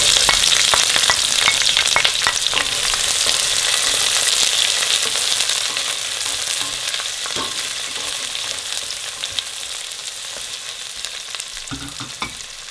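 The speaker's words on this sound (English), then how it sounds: "Now you need to fry the onions till they're nice and translucent, but don't let it get brown or even golden." Onions fry with garam masala in a hot pan for a Lamb ball curry, a steady loud sizzle with faint stirring scrapes that eases slightly toward the end, no voices.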